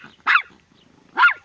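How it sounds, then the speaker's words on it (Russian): A small dog barks twice outdoors at a riverside fishing spot in a village, two sharp close barks separated by a short pause, with no talking. "Ляль, хватит лаять."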